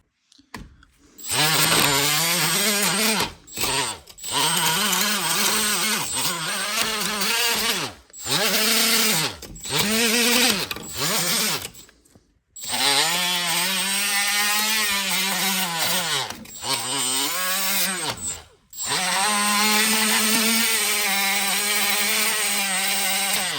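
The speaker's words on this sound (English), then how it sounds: "I'm gonna clean the threads out with the wire brush first." A power tool whines loudly and close in long bursts with short pauses while cleaning bolt threads on a front strut of a 2005-2012 Toyota RAV4, its pitch sagging and recovering under load.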